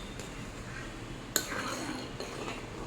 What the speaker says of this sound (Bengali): যখনই বলক উঠবে এভাবে নেড়ে দিতে হবে, নাহলে দুধটা ফেটে ছানা হয়ে যাবে।